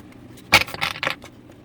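A stiff deck of cards being shuffled lightly, giving a few quick, soft riffling and snapping bursts close by, fairly faint against a quiet background.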